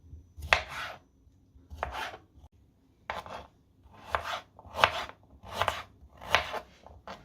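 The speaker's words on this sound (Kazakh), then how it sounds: "кубиктап немесе жұқалап кесіп аламыз" A knife chops ingredients for a homemade Kazakh cold-remedy drink on a cutting board, giving about nine crisp, evenly spaced cuts, close and fairly loud with nobody talking.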